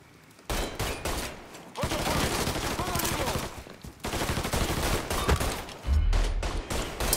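Gunfire in Mafia 3, a dense rapid volley of close, loud shots that keeps going almost without a break, with a heavier burst near the end.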